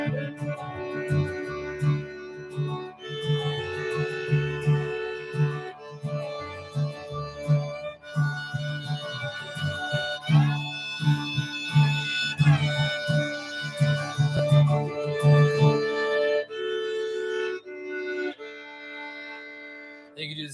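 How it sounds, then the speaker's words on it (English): Bowed fiddle playing sustained closed-position double stops over a steady low drone, notes shifting in slow steps, close and clear with no talking. "I would go through all the closed and open position double stops with a drone like this."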